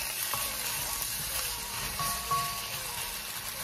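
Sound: tomato sauce and longaniza sizzling while frying in a pan

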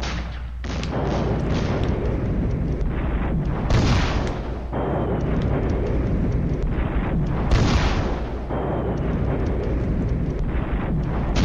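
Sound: 120mm artillery barrage in a WWII war video game

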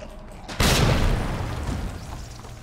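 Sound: grenade explosion in the video game Resident Evil 2 Remake

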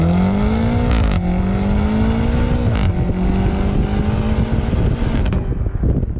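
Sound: 2021 BMW M5 Competition V8 sports exhaust at wide open throttle

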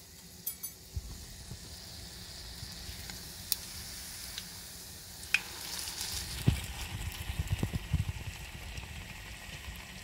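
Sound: French toast sizzling while frying in a pan

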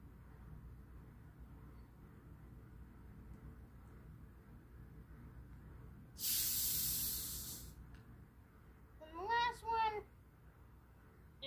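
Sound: unscrewing Coke bottles, carbonated soda fizzing

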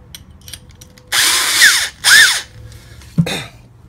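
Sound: power drill with 7/8 bit drilling plastic bucket

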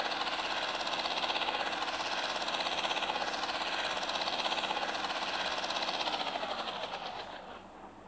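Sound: helicopter engine in video game Rage Town

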